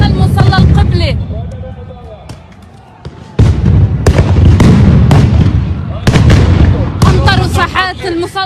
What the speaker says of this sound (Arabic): عم يطلقوا قنابل الصوت داخل مصلى القبلة